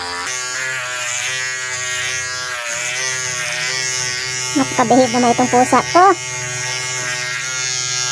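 An electric shaver buzzes steadily and close as it clips a cat's fur, with a brief burst of sharper pulsing mid-way, while someone talks over it.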